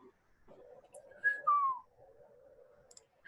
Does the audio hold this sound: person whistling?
yes